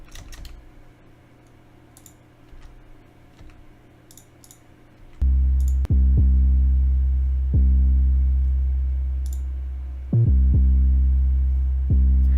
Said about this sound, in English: So let's hear what the 808 sounds like by itself.